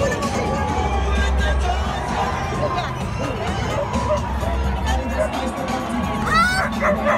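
Dog-themed song over stadium speakers at a White Sox baseball game, heard with barking-style sounds and yips over a steady crowd hubbub, loud and continuous throughout.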